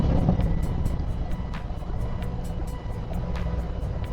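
Harley-Davidson Road Glide motorcycle with aftermarket mufflers and zombie baffles, idling with a deep, steady rumbling exhaust throb and faint ticking pulses on top, close and continuous throughout.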